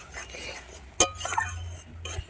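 A spoon scrapes and clinks in a pot as spices and ginger paste are stirred and sautéed for a village-style desi chicken curry. It is a close, soft shuffling with one sharp metal clink partway through.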